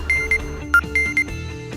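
Car alarm ringing, heard as a loud, close series of short electronic beeps in an irregular pattern over about two seconds.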